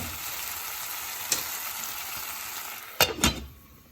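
Potatoes frying in a pot for a dry Indian aloo sabzi, a steady close sizzle with a few sharp clinks of the stirring spoon against the pot toward the end.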